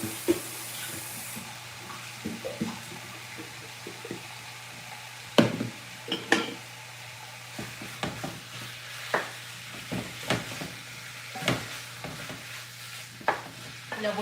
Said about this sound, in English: So I'm gonna add all the meat. I'm just gonna throw it in there to the oil.